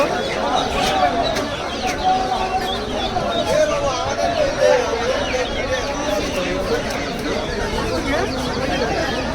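Busy outdoor poultry market bustle in Basanti, Sundarbans, with chickens clucking and ducks and birds calling throughout, under steady crowd chatter and nearby voices.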